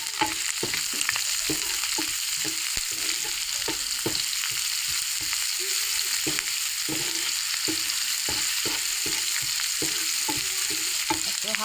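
Noodle paste frying in hot oil in a pan, a steady close sizzle with frequent crackling pops and stirring scrapes running throughout, with no talk.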